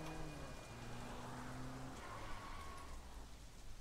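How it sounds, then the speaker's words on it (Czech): Steady rain falling in the video game Sleeping Dogs, a faint continuous hiss of drops on pavement with low ambient tones underneath, unbroken throughout with no voices. "to mu nevadí, že mu prší na hlavu?"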